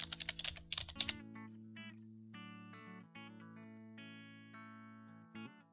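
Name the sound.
typing on a computer keyboard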